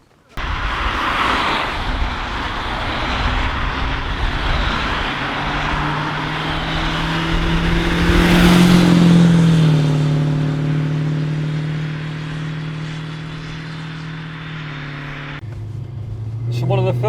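A 25-year-old London taxi fitted with a swapped-in V8 engine drives on the road, a deep rumbling engine note that rises and swells as it accelerates, then settles to a steady drone before a brief shift, with no voices over it.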